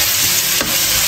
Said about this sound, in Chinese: 锅里面倒点油，油热把蒜末给下进来